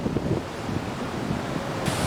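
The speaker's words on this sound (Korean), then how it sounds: "파도가 어떻게 블루홀로 오는지 궁금해 바닷가 쪽으로 나갔다." Ocean waves surge against rocks near a blowhole on the Sydney coast, a loud continuous roar of surf mixed with heavy wind buffeting the microphone, with no voices.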